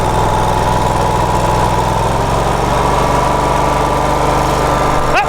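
Ferris IS3000 zero turn mower fitted with a 61-inch deck and Copperhead replacement blades cutting grass, its engine droning steadily and loudly up close with a constant low hum throughout.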